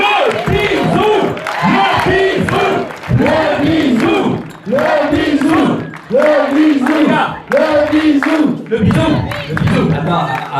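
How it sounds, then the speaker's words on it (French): A wedding crowd cheers and whoops loudly in repeated rhythmic bursts, with voices shouting together and some clapping mixed in, close and continuous. "on les applaudit très fort"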